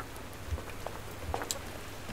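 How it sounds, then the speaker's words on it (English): Rain falling outdoors at a homestead camp, a steady soft patter with a few louder drops landing close by, quiet and without voices. "it keeps bloody raining."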